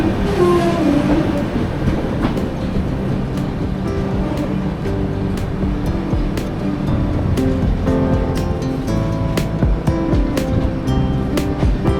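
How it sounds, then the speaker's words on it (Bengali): The Purvanchal Express, Gorakhpur to Kolkata, rumbles loudly from inside the coach as it runs into Kolkata station, a steady heavy roar of wheels with regular clacks from the rail joints. "ওদের ট্রেনটা এখন দমদম পেরোলো, কলকাতা স্টেশন ঢুকবে।"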